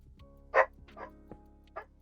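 A dog in the Minecraft survival server Archaeo SMP gives a few short barks and yips, spaced irregularly over a couple of seconds, clear and close against near silence.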